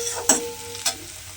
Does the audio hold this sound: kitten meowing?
no